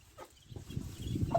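Chickens on a rural smallholding cluck softly close by, low murmuring fowl sounds with a brief higher call near the end, against quiet farmyard background.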